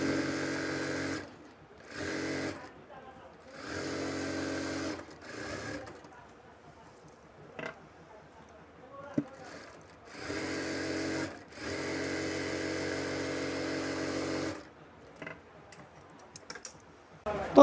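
A sewing machine stitches a seam on a skirt palazzo in several close, rapid whirring runs of one to three seconds each, separated by pauses with faint handling sounds.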